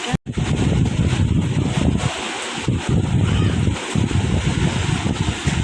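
Heavy rain and hail pound down steadily at night during a storm with lightning, a dense, loud roar of impacts with wind-like rushing throughout, continuous and close.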